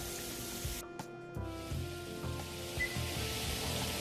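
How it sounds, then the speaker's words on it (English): Steady hiss of oil crackling and sizzling as chicken fries throughout, with a few brief knocks and clatters near the start. "while she's frying the chicken"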